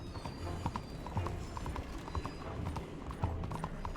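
Horse galloping in Red Dead Redemption 2, a quick rhythmic clip-clop of hooves throughout, fairly quiet and steady with no talk.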